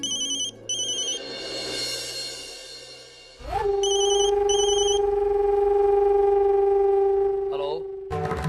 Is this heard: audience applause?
no